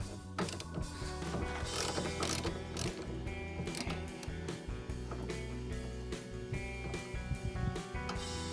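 Ratchet turning a 15 mm socket on the EGR valve of a 2013 Ford Galaxy 1.6 TDCi, a rapid continuous clicking of the pawl, close and steady throughout.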